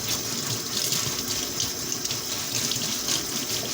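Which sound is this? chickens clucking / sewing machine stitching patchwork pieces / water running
water running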